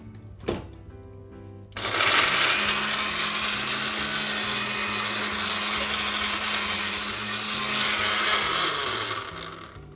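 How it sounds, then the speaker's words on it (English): After a brief clunk, a blender roars to life and runs steadily, crushing ice for a cocktail with a dense, loud grinding, rattling whir that never lets up. "I get that blending straight away."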